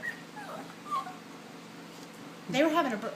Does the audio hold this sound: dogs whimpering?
yes